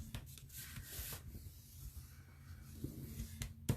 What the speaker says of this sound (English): just keep burnish, burnish, burnish with your bone folder